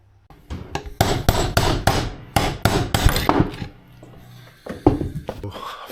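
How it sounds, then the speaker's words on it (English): A trailer wheel hub part clamped in a vise is struck repeatedly with a hammer, a series of loud, sharp metallic blows in quick irregular bursts, with a short pause before a final few hits. "Chuck it directly on in the vise and just smack it."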